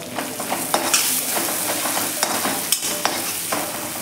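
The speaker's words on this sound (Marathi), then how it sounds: "हे वाटण छान असं एक मिनिटभर आपण कमी गॅसवरती असं परतून घ्यायचं आहे।" A ground masala paste is stir-fried on low heat in a tempering with a little coriander. A spoon scrapes the pan in steady, repeated strokes over a constant close sizzle, with no talking.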